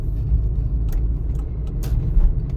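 A car rumbles steadily from inside the cabin as it exits a roundabout on a driving-test route, a low continuous engine and road drone with a few faint clicks above it.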